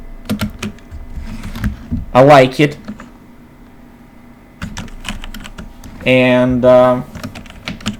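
Typing on a Logitech G413 Carbon mechanical keyboard gives scattered close key clicks and short bursts, with someone talking between and over them.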